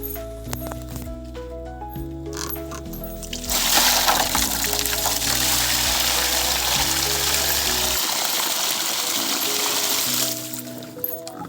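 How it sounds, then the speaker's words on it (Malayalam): Water poured into a bowl set out for pigeons makes a steady, close splashing rush for several seconds, starting abruptly and cutting off near the end, with background hum and no talk. "നമുക്ക് ഇവിടെ വെള്ളം വെച്ച് കൊടുക്കാം പ്രാവിനെ"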